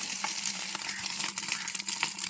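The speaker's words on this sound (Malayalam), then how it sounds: "കുറച്ച് മുട്ട വറുക്കാണ് വെച്ചു" Eggs frying in a little too much oil in a pan, a steady close crackling sizzle with small pops throughout, no talking.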